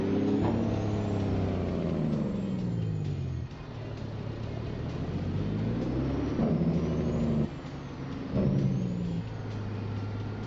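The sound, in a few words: truck engine and air brakes in American Truck Simulator video game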